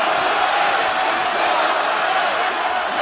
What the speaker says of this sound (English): Joanna Jedrzejczyk, ready to make a statement in front of this capacity crowd here tonight.